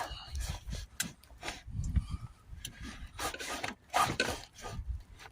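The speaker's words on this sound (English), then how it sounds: "So we're just going to remove the hose clip, slide it down." A hose clip is worked off and slid down a radiator hose on a 2.0 Mk8 Ford Transit: close, irregular scraping, rubbing and metallic rasps in bursts, with no voices.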